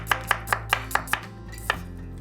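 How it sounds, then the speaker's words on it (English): A kitchen knife finely slicing an onion on a cutting board, seven crisp chopping strokes in a quick, steady rhythm, close and clear, with a low steady hum beneath during a stir-fry prep. "So 1 onion, we're going to finely slice."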